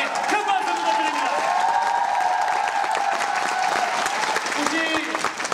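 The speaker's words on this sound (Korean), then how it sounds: "여러분들께 큰 박수 부탁드립니다" A large theatre audience applauds and cheers during the curtain call of the musical Fame in Korea, producing loud, continuous clapping with whoops and a sustained tonal sound over it, while an amplified voice talks through part of it.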